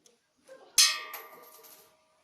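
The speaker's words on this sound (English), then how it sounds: "if you throw through the coin and hit the bell, it will give a sound" A single bright metallic clang rings out as a thrown coin strikes a small bell once, then decays for about a second in a quiet space.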